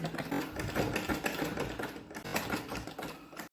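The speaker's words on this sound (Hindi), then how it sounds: "अब इसके जड़ में यहाँ सिलाई चलाएंगे।" A sewing machine stitches piping onto a blouse, a rapid, close mechanical chatter that runs steadily, dips briefly partway through, resumes, then stops abruptly, with no talking.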